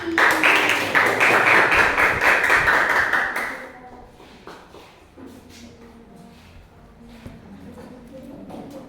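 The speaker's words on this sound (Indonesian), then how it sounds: "Let's welcome them with tepuk kereta api" A classroom group of teachers does a rhythmic train clap, fast even claps that build loudly for a few seconds, then drop to sparse, quieter taps and shuffling with some voices.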